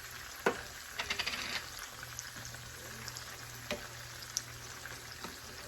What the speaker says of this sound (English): I'm also going to add some minced garlic.